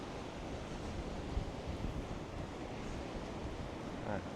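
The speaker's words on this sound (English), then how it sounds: "Nice weather actually, but it's very windy." Strong wind by the sea at Puerto del Carmen on Lanzarote, Spain: a steady, loud roar of wind buffeting the microphone mixed with surf, continuous with no breaks and no voices.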